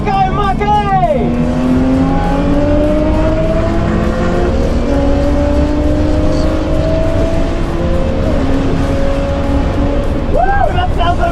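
Datsun L28 engine racing hard on a track, a loud sustained roar with rising and shifting pitch as it accelerates through gears, heard from inside or close by, with tire squeal and a voice over it.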